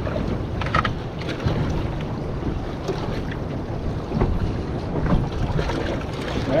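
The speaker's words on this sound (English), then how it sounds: "this breeze was supposed to be dropping out about now, and it just doesn't seem like it is" Steady breeze rushing over open sea off the Australian coast, heard from a small fishing boat as continuous wind noise buffeting the microphone with faint water movement beneath, no voices.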